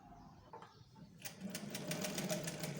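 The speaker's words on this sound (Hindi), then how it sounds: "आपने जो सिलाई चलानी है वो सीढ़ी लेस के ऊपर ही चलानी है" A sewing machine stitching along a ladder lace, starting after a quiet moment and then running in a fast, even, close-up mechanical rhythm.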